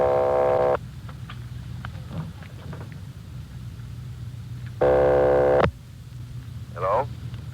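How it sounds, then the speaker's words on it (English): Two bursts of a telephone ring tone heard through a phone line, separated by a stretch of quiet line hiss and faint background sounds. "They're ringing the number"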